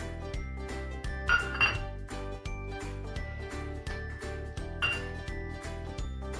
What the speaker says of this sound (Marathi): आता हे सर्व साहित्य आपण मिक्स करूया